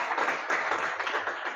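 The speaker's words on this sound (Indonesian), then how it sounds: "Tepuk tangan untuk kita semuanya" A classroom of students bursts into steady, dense hand clapping for a teacher, a continuous close applause with no voices over it.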